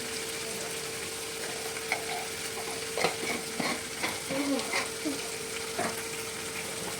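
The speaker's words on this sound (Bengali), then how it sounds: "দিয়ে এবার ভালোভাবে নাড়িয়ে নেব, কষিয়ে নেবো মশলাটাকে ভালোভাবে।" Spice masala with coriander powder and chili powder sizzles as it is stir-fried, a constant hiss with scattered spoon scrapes and taps against the pan, close and continuous.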